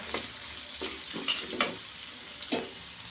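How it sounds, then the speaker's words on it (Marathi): Potatoes for a fasting-style potato bhaji are stirred in a pan with red chili and salt. A spatula scrapes about five times at an uneven pace over a steady, close sizzle. "आता टाकू आपण त्याच्यामध्ये लाल मिरची आणि मीठ उपासाचं, आणि याला पण हलवून घेऊ चांगलं।"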